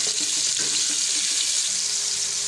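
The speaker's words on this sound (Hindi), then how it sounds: "और थोड़ा सा पानी शामिल करेंगे" Water poured into a cooking pan of moringa flower keema after ginger-garlic paste is added, a steady hissing pour with faint sizzle running throughout, close and continuous.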